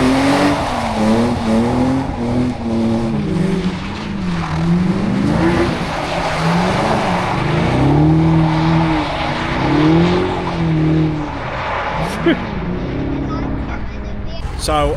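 A car drifting on a race track with tyres squealing, loud and close. A continuous engine roar swoops up and down over the squeal, and a voice seems to speak over it at times.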